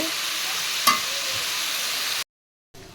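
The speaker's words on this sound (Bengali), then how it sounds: "আমি আরেকটু নেড়ে নিলাম। তো বেশি ভাজবো না বন্ধুরা, একটু কম ভেজে নেব।" Shrimp frying in a wok hiss with a continuous close sizzle, a single clack of the spatula against the pan partway through, then the sound cuts off briefly before resuming more quietly.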